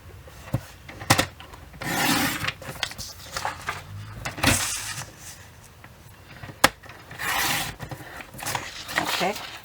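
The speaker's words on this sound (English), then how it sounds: "First thing I'm going to do is I'm going to cut this in 4-inch strips." Cardstock is cut into 4-inch strips with repeated sliding, rasping strokes of a paper trimmer, irregular bursts of varying loudness, close and clear with no speech over them.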